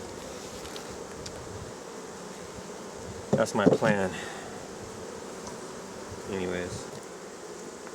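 Honey bees buzz steadily around a hive in California, a low continuous drone under a voice that speaks briefly in the middle.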